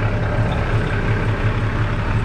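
A truck engine idles in a steady, even low rumble that holds without change throughout, close by and with no talk over it.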